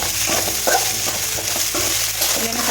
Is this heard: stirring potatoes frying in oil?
yes